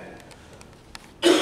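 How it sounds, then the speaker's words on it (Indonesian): A single short cough or throat-clear bursts out near the end, close and fairly loud after a quiet pause, from a speaker at a Friday prayer fellowship service. "Saya batuk dulu."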